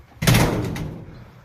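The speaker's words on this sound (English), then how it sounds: "Just close the screen door and stuff" A screen door at a house is shut, one sharp bang followed by a rattling decay lasting about a second.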